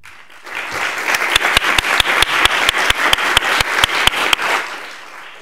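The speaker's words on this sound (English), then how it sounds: "So please, a round of applause for Sue." At a school board meeting, the audience gives a recipient a hearty round of applause. Many hands build into a dense clapping roar, with a sharp rhythmic clap cutting through at a steady beat, then the sound fades away.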